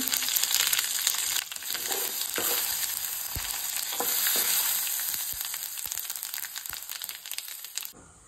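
Spices, curry leaves and asafoetida sizzle loudly in hot oil as a tempering, with a dense, crackling hiss and occasional stirring knocks, fading abruptly at the end.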